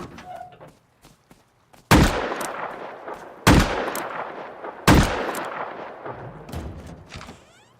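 Three sharp, loud gunshots in a video game, evenly spaced about a second and a half apart, each with a long decaying tail over a noisy background with faint bird-like chirps early on.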